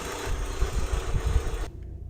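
Volkswagen engine idling after a Digifast performance chip install, a steady low rumble with slight pulsing, close and moderate in level, cutting off abruptly near the end.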